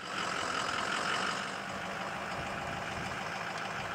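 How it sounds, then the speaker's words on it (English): A modified tow truck hauling an MQ-9 drone toward the runway gives a steady, loud engine rumble and broadband whir that holds constant throughout, slightly louder in the opening moment. "the MQ-9 is towed to the runway by a modified tow truck"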